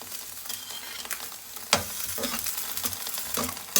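Garlic paste sizzles steadily in oil in a pan with occasional scraping stirs and clinks, close up and without talk.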